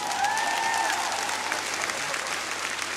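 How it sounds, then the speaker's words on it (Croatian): Audience applause at a concert, dense and steady clapping from a crowd that holds for the full moment, moderately loud, with a brief whistle-like tone early on. "još jedan aplauz za njega"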